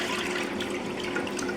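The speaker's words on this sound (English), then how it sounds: "Now I'm simply going to flush." Water rushes steadily from a flushing toilet fitted with a blue drop-in cleaner tablet, a continuous close gurgling wash with no voices.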